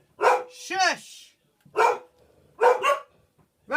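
Two pet dogs named Rosie and Pepper barking in short, loud bursts during a face-painting session, with a voice talking between the barks.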